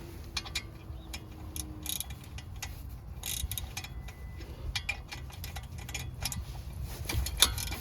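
A hex tool loosens the lower brake caliper bolt on a 2019 Ford Fusion Hybrid. Quiet clicking ticks sound close by with a faint whir, and the loudness shifts unevenly throughout.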